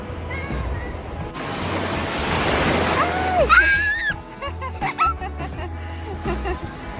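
Surf washes onto a beach in the Philippines in a steady rushing roar, with a voice chattering and laughing nearby over the waves.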